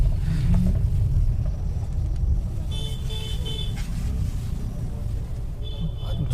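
A car engine rumbles low and steady as the vehicle pulls to a stop on a busy Pune street at night near the Dagdusheth Halwai Ganpati temple, with scattered horn toots from surrounding traffic and faint voices.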